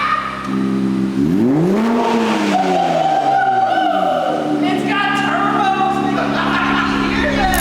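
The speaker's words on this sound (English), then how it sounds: "we finally got the downpipes installed on the Z, and it sounds insane" A Nissan Z exhaust with newly installed downpipes revs hard, its loud engine note sweeping up and down in pitch with raspy, crackling harmonics, close and continuous.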